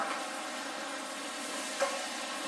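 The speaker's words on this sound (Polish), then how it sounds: "Krewetki smażymy około 3 minut." Shrimp frying in a pan, a steady, moderately quiet sizzle with a faint clink near the end and no talking.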